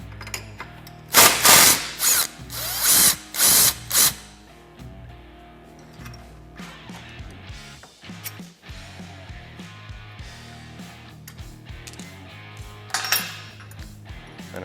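On a Can-Am Maverick 1000R, a power tool spins off a castle nut in several short, loud whirring bursts, followed by metallic clinks and knocks of tools and parts, ending with another brief buzzing burst.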